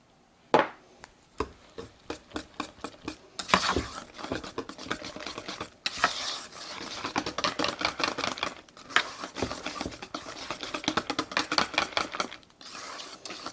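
A whisk or spoon beats waffle casserole batter in a bowl, giving irregular bursts of clicking, tapping strokes that come and go with short pauses between them.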